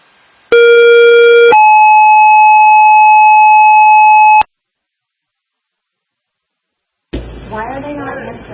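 Fire dispatch alert tones strike a second alarm: a loud steady electronic tone that steps up to a second, longer tone, then silence before a radio voice begins.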